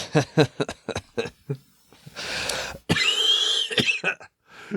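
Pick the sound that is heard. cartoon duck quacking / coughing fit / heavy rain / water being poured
coughing fit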